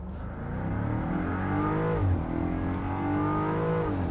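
A 2023 Land Rover Defender 90 V8 in sport mode and low gear revs hard, its engine note climbing and dropping sharply at each upshift, loud and close with no talk.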